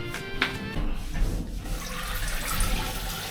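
Water rushes in a campsite shower, a steady hissing flow with a brief clink near the start, close and continuous throughout.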